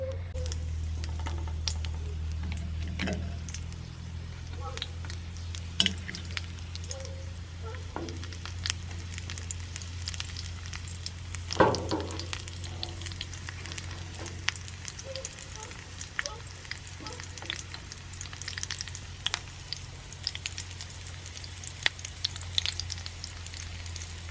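Bulad, a dried fish, fries in a pan with a quiet continuous sizzle, scattered small pops and occasional stirring over a steady low hum.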